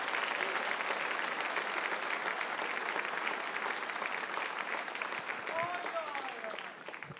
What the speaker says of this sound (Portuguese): E se você vai aplaudir,